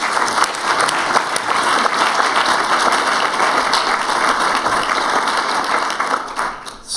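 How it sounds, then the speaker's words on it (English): Sustained, dense audience applause for a panel of arts-in-health speakers at an indoor discussion event, steady and loud across the whole stretch before tapering slightly at the end. "Could we give them a round of applause"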